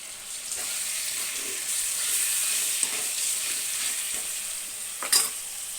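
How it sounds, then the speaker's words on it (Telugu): Chicken tossed into a pan of softened onions fries with a constant hissing sizzle, heard close, with a few faint scrapes and a brief louder clatter near the end as it is stirred. "ఇప్పుడు చికెన్ వేసేసుకుందాం వేసుకుని కలిపేసి మూత పెట్టేస్తాను"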